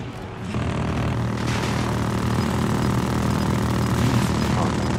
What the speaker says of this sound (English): Justin, there's a heli.